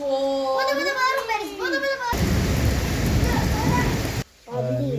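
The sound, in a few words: rain and thunder in Bandar Abbas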